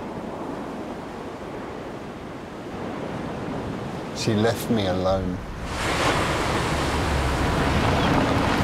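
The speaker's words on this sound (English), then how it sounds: "And here we are, the sea." Sea waves wash steadily in a broad, noisy roar that builds louder in the second half, with a brief spoken line heard over the surf midway.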